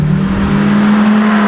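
A Dodge Viper's engine pulls hard in a canyon, a loud, steady, resonant drone with a strong low hum holding throughout the short burst, no voices over it.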